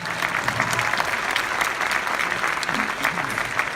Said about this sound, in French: ce soir, moi, j'ai envie de vous applaudir